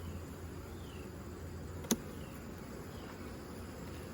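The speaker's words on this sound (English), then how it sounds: "Look at the bees." Honey bees in a full single brood chamber hive, a steady low hum throughout with one brief sharp click near the middle, no talk.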